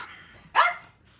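A single short dog bark, fairly close and moderately loud, from a dog waiting to be fed indoors, with quiet room sound around it.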